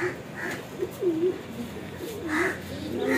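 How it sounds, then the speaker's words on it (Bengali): Pet pigeons kept indoors coo softly in repeated rolling calls, a few separate low phrases rising and falling over a faint background hum, with no talking. "আপনারা দেখেন যে কবুতরটা কত সুন্দর।"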